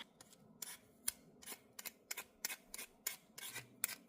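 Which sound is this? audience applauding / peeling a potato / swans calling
peeling a potato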